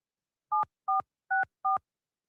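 Four short, evenly spaced telephone keypad tones ring out loud and clear as a number is dialed, each beep two-toned and crisp, with silence before and after.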